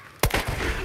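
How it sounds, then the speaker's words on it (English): A video game explosion bursts in suddenly and loudly, then rumbles on as a dense, sustained roar with crackling debris. "That explosion almost killed me!"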